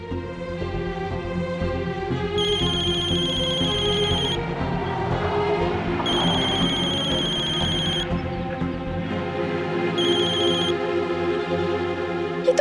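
A phone rings in three bursts of electronic trills, separated by pauses, over a steady background of music.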